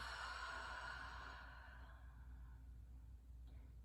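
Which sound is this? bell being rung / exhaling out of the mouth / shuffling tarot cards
exhaling out of the mouth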